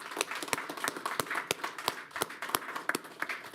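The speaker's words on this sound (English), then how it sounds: "So round of applause for those guys." A few people clap at a school board meeting, sparse and uneven with distinct separate claps rather than a full wash, fairly quiet and with no talk over it.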